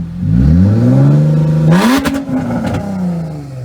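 A Nissan 350Z engine held near 3000 rpm revs up sharply, a loud close rising drone that peaks into a harsh rough roar before settling back to a lower idle.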